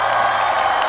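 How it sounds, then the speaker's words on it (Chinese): TV studio audience breaking into applause to welcome a guest on stage, a brief dense burst of clapping and crowd noise, loud and close. "掌声有请马丽"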